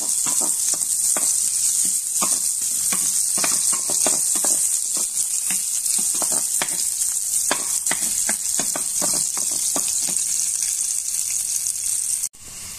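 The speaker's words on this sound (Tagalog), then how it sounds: "Diyan ko na rin igisa yung sibuyas bawang." Onion and garlic sauté in hot oil for a sweet and sour creamy dory fish dish, giving a loud, continuous sizzle with frequent crackling pops and stirring clicks, cutting off abruptly near the end.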